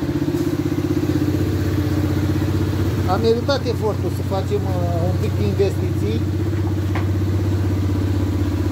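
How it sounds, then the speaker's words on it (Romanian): A 125cc ATV with a carbon sport exhaust and a new engine idles close by with a steady, deep throbbing rumble, while someone talks over it through the middle. "Au ce frumos merge motorul ăsta."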